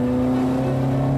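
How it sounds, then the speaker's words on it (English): The engine of a Ford Mexico holds a steady, loud, smooth drone at speed from inside the car, with no talk over it. "Engine sounds very sweet, pulls very well."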